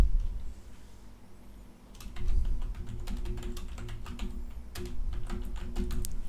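Code being typed on a computer keyboard, a fairly close, steady run of quick key clicks that starts after a short quiet moment and continues to the end.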